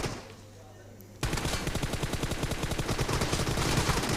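In the video game PUBG Mobile, after a quiet second, rapid automatic gunfire erupts and continues in a fast, steady stream of loud shots through to the end.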